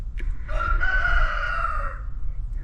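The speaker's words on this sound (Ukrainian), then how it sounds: "Півні кукурікають, пташечки співають." A rooster crows once in a village, loud and close, a long drawn-out call over a low background rumble.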